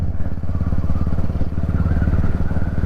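Royal Enfield Classic 350 motorcycle riding along, its single-cylinder engine thumping in a steady, loud, continuous rhythm close by, with no talk over it.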